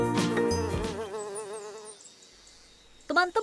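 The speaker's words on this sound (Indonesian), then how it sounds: "Teman-teman awas, ada lebah." A cartoon bee buzzes with a wavering, vibrating drone in an animated children's lesson about symbiosis, loud at first and then fading out after about two seconds.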